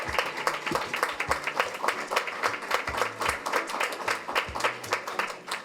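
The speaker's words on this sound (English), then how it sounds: "another round of applause" Hearty applause at a school board of education meeting, many distinct hand claps in a lively, uneven rhythm with a few raised voices mixed into the crowd.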